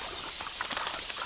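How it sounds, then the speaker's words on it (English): A flock of quelea birds beats its wings in a soft, fluttering rush, a brief burst of rapid flapping heard faintly and alone. "these quelea, which flock in the thousands"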